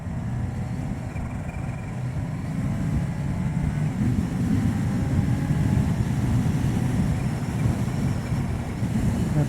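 A 2018 Kawasaki H2 SX SE motorcycle at full throttle, a loud, continuous engine roar that swells steadily over the run with heavy wind rumble, no talking.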